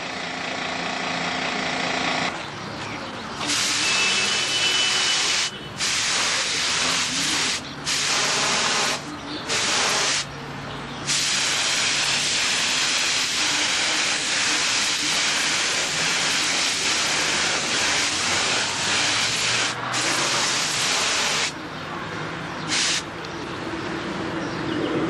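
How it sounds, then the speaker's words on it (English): An airbrush or spray gun hisses in repeated bursts of varying length as paint is sprayed onto a small part of a Strega 18 model, with brief gaps between passes and a close, steady rush of air. "Notice I'm spraying everything except the corner."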